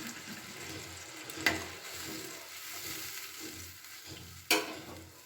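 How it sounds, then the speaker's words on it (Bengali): Rohu fish curry gravy boiling in a pan with green chillies, a soft continuous bubbling simmer with two sharp utensil clicks, no talking. "কিছুক্ষণের জন্য আমি ঝোলটাকে ফুটতে দিয়ে দিলাম।"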